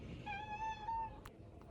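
A cat meows in one drawn-out, clear call outdoors by a lake, close and fairly loud over steady background noise, followed by a couple of faint short clicks.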